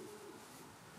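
Racing pigeons in a loft give soft, low cooing that sits under a steady airy background, faint and continuous through the short moment.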